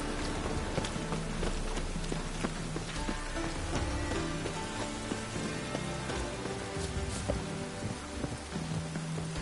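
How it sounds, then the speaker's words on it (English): Steady rainfall in The Witcher 3: Wild Hunt patters on surfaces with dense, continuous droplet noise, occasional louder drips and faint low rumbling underneath. "And it's raining again."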